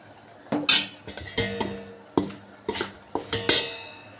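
A spoon scraping and clinking against a bowl in repeated stirring strokes, close by, as flour and boiling water are mixed together for kozhukattai dough.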